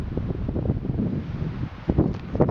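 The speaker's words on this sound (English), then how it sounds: "Lots of wind." Strong wind blows across the open summit of Telescope Peak in freezing cold, a loud, gusty rumbling roar that buffets the microphone, swelling in bursts toward the end, with no talk.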